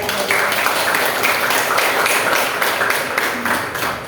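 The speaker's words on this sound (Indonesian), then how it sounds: "Oke, beri tepuk tangan dulu." Applause from a seated group at an academic presentation, dense continuous clapping that stays fairly loud and even for several seconds before tapering slightly.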